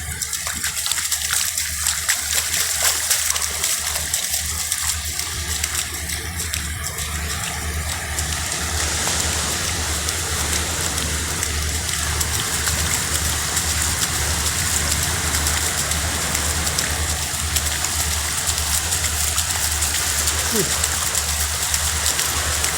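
Heavy rain pours steadily during a cyclone on a beach in Holland, a dense continuous wash of water with a low rumble beneath, loud and unbroken throughout.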